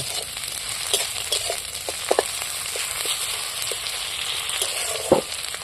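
Onions fry with a constant crackling sizzle in a pan as a spatula stirs them, sharp clicks and scrapes popping up irregularly over the hiss, close with no talking.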